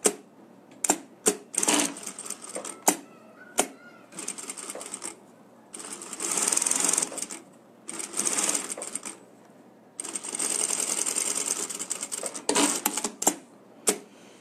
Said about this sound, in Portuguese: costurei todos os bolsinhos